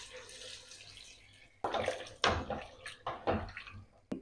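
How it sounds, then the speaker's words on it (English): Water splashes and pours into a cooking pot of chicken stew in several uneven bursts after a quiet start, close and irregular. "Now I'm going to add water"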